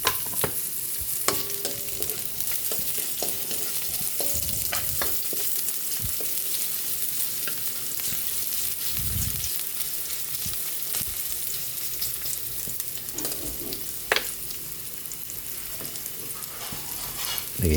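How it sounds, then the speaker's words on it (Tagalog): Pork adobo sizzles and fries steadily in a pan with onions, a continuous close hiss broken by occasional stirring clatter, no voices. "Habang inaantay natin maluto yung ating adobo."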